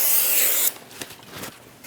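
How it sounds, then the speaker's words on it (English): A short burst of parts cleaner sprayed onto a brake rotor from a 2001-2006 Chevrolet Silverado 2500 HD, a loud hissing spray that cuts off abruptly, followed by faint rubbing and handling noises. "spray it down with some parts cleaner"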